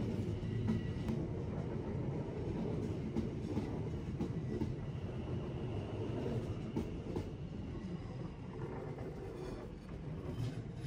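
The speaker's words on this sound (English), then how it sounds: "Here the train's impressive acceleration can be admired as it leaves Waterloo" A commuter train pulls away from London Waterloo, a continuous rumbling roll of wheels and traction hum with faint clicks on the rails, heard steadily from on board with no voices.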